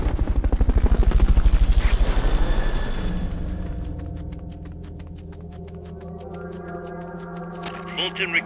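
A helicopter's heavy rotor thumping loud and close, then fading into a steadier hum with rhythmic pulsing chops, game audio from Metal Gear Solid: Peace Walker.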